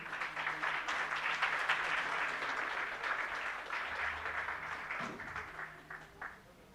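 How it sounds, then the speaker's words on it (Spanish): A congregation applauds at a New Year's church service, thick clapping that gradually thins and fades, with a low murmur beneath it near the end. "Vamos a dar un aplauso, por favor."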